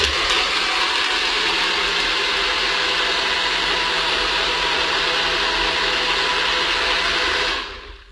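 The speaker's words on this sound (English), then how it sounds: "So you just screw on the lid and then press down and blend. It's going to be noisy, sorry." A countertop blender whirs while blending a smoothie, a loud steady motor drone that holds for several seconds then winds down, no voices over it.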